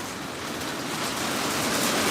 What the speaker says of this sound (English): It is hailing outside.